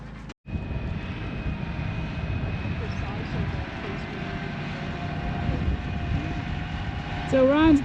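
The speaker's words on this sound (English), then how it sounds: "So Ron's bringing all the concrete back on the tractor" Tractor engine hauling concrete on a farm build site, a steady low, rumbling drone that runs throughout after a brief cut, with people talking over it.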